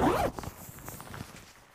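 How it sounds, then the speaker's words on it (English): A fishing rain jacket zipper is pulled up in one quick, loud rasping stroke, then a few softer rustles and taps of fabric follow nearby, with no speech. "It zips up great."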